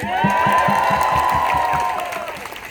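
Rally crowd in New York's Chinatown applauding a speaker's wife, a dense steady wash of clapping with cheers and a sustained whoop, loud and close, fading slightly at the end.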